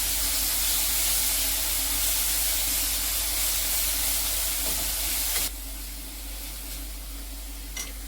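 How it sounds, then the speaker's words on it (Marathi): Green chili paste sautéing with browned fried onions and bay leaf, a steady broadband hiss and sizzle that drops to a quieter level partway through, with faint stirring clicks near the end; no talking. "आपण जे हिरव्या मिरचीचं वाटण केलं ते आता आपण टाकून व्यवस्थित परतून घेऊया।"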